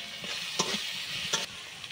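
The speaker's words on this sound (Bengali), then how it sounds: "তেলের উপরে মশলাটি কিভাবে তৈরি হচ্ছে।" Spices sizzle and fry steadily in hot oil for a mutton curry, with a couple of sharp scrapes as they are stirred; no voices, the crackle staying close and continuous.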